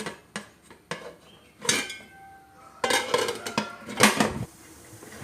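Metal lid set onto a cooking pot while making Toundur da Gatti, a series of scattered clanks and clinks of metal cookware, close and sharp with quiet gaps between.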